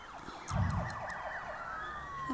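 In a SimCity city-building game, an ambulance siren yelps in rapid rising and falling sweeps, moderately close, fading into a long steady wail near the end over quiet ambient city sounds.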